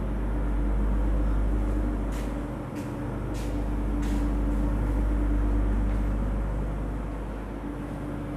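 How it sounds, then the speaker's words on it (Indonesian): A large genset generator runs on the upper floor of a building, a loud, constant low mechanical rumble that drones on steadily with a slight swell in the middle and faint clanks over it. "untuk lantai 2 juga masih kedengeran suara genset bisingnya"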